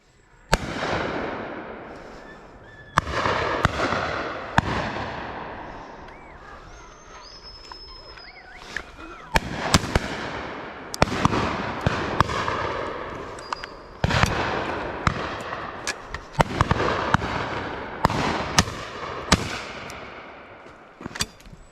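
Shotgun shots ring out repeatedly during a driven pheasant shoot at Powis Castle, sharp cracks spaced irregularly, some near and loud, some farther off, with faint outdoor background between.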